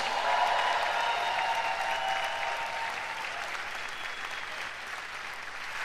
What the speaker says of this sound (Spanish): Un aplauso para todos ellos.